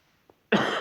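One short, sharp cough bursts out after a moment of near silence, close and fairly loud.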